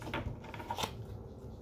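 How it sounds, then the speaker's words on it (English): Tarot cards are shuffled by hand in a few quick, soft riffling slaps close to the microphone, faint and brief against low room noise. "It takes a lot of time sometimes to do these shufflings"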